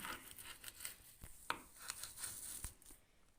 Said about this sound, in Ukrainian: І ріжемо наші шматочки.